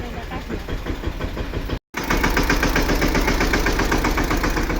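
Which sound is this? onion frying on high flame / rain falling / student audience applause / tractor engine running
tractor engine running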